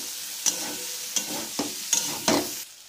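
A spoon scrapes and stirs a potato and chili flake filling in a frying pan, giving five distinct knocks spaced irregularly over a soft background sizzle, close and clear with no talking.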